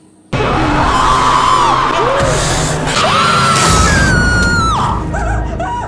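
Loud, sustained screaming with rising and falling wails, several overlapping shrieks over a noisy rumbling background, starting abruptly and continuing throughout.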